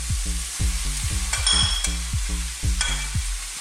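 Tomatoes go into a pan of goat masala curry with chili and spices, giving a steady close sizzle and a few sharper hisses and spatters as they hit the hot oil, with no talking.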